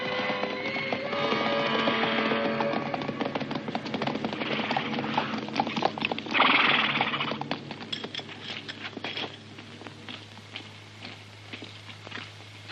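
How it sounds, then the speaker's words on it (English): Hooves pound in a fast, continuous gallop, loud at first and gradually fading as the horse moves away. "Saddle me a fast horse."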